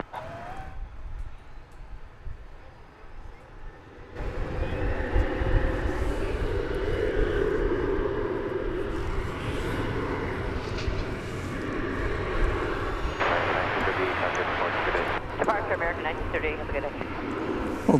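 Jet aircraft on the runway at DFW Airport, a distant engine rumble swelling after a few seconds into a sustained loud roar, with someone talking intermittently over it.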